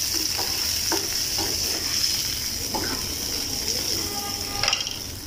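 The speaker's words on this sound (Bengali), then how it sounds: "এখানে কিছু সসেস কেটে নিয়েছি, তারপরে গ্রিন ইয়েলো ক্যাপসিকাম আর রেড ক্যাপসিকাম নিয়েছি। প্রথমে সসেসগুলো হালকা একটু ভেজে নেব।" Sliced sausages fry in a pan with a continuous close sizzle, broken by a few scraping stirs of a utensil, with no voices over it.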